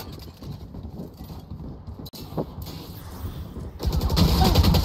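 Gunfire in a Valorant match: scattered in-game shots and impacts over steady game ambience, growing into a louder rapid burst of fire toward the end.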